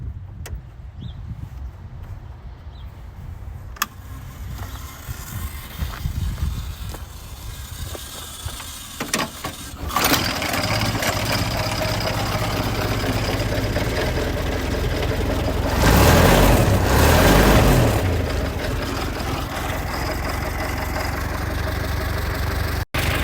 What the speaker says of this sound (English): Okay, let's go ahead and start the car.